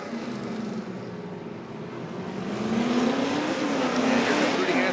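A supercharged Nissan 240 drift car runs a qualifying pass, its engine droning and rising in pitch as it accelerates, loud and steady, with a commentator talking over it.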